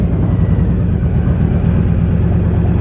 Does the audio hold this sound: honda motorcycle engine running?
yes